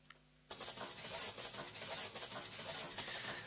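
A metal chain sample pitch-shifted up nine semitones plays as a bright, hissy, continuous metallic shimmer that starts abruptly after a short faint lead-in and stays loud and steady.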